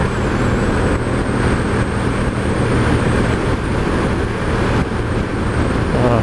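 A 2016 Ducati Diavel Carbon motorcycle accelerates hard through the higher gears, its engine a steady, loud drone mixed with rushing wind and road roar, with no voices.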